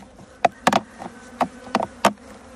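Several short buzzing bursts of honeybees flying close by at a hive, coming and going in quick passes against a quiet background.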